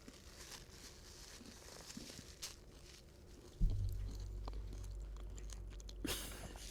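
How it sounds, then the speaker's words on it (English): Close-up chewing of food, with crinkly, crunchy mouth sounds right at the microphone, quiet at first and then joined by a heavier low rumble partway through. "I can hear your chewing."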